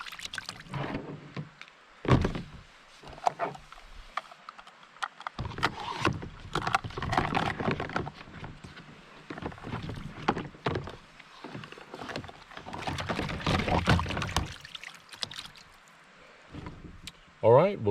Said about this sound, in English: I'm going to use the, just to wash this Dutch oven out without using soap. So I'm going to use the rinse water to do that.